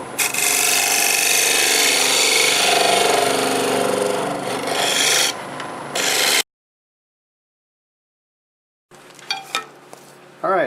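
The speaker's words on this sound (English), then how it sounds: "I should be able to clean it up with my negative rake scraper." A negative rake scraper works across a black locust burl bowl on the lathe, giving a loud, steady rasping scrape for about six seconds, then silence, then a few shorter, lighter scraping contacts.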